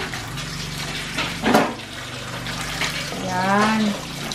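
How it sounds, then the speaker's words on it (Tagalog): Hot water poured into a cooking pot for sinigang na talakitok on a farm, a steady splashing stream with a brief louder gush, and a voice speaking briefly near the end. "Tapos, lagyan natin ng mainit na tubig."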